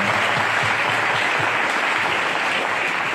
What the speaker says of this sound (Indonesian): tepuk tangan untuk Kang Atep dan Kang Tantan ini